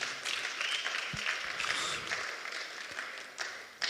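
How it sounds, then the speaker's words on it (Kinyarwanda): A church congregation applauds in praise of God, a fairly soft, sustained patter of many hands with a few sharper claps near the end. "reka twongere Imana yacu amashyi"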